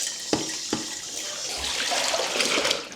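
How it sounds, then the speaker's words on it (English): About 15 liters of water pours steadily into a container holding a mixture, with a rushing, splashing sound and a couple of sharp knocks near the start. "I'll add around 15 liters of water to my mixture."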